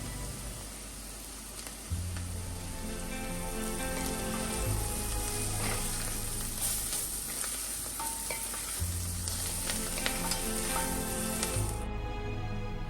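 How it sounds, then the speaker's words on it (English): Mushrooms with turmeric sauté in a pan for Wai Wai noodle soup, giving a continuous soft sizzle and stirring crackle over a low hum, fading out at the very end; no speech. "Now saute this mushroom for around 2 to 3 minutes on low to medium high heat"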